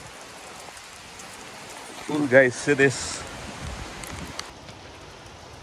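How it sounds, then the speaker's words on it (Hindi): Steady rain falls outdoors at a hilltop viewpoint, a constant soft hiss of drops on surfaces, while someone speaks briefly over it partway through. "देखिए बारिश हो रहा है"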